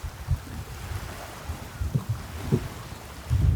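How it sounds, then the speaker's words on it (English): Wind gusting along the seashore of a small Bahamas island, a steady low rumble of buffeting air with surges and a heavier blast at the end, no voices. "It is very windy today."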